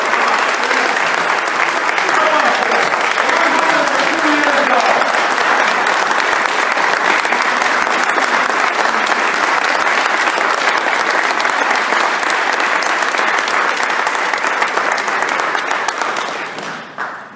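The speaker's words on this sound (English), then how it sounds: "A round of applause." Sustained audience applause at a scholarship celebration at Albany Law School, dense and steady clapping from a roomful of people for about sixteen seconds before tapering off at the end.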